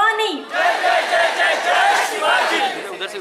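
A crowd of young people at a dhol pathak event roars and chants together, a loud massed cheer rising after a brief voice at the start.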